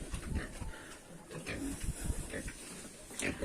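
Sows grunting nearby in short, irregular snorts and oinks, with a person talking over them.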